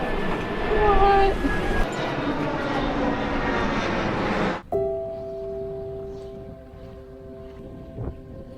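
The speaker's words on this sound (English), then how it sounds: "Hey, an airplane." An airplane passes overhead as heard from a charter sailboat near an island, a broad roaring rumble that cuts off abruptly, leaving quieter steady tones, with voices talking underneath.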